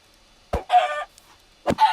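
Two short bursts of clucking from a Minecraft chicken, close and fairly loud, separated by a pause of about a second.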